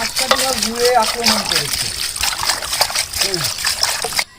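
Water poured out at a busy outdoor village cooking setup for a beef and lentil feast, splashing and trickling steadily throughout under loud talking voices before cutting off abruptly at the end.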